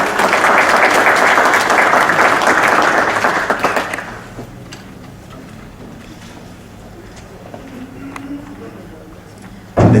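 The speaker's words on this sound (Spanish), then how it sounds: "Lo recibimos con un fuerte aplauso." Audience applause welcoming a speaker at a law seminar held by a bar association, a loud, dense burst of clapping for about four seconds that then stops abruptly, leaving quiet room tone.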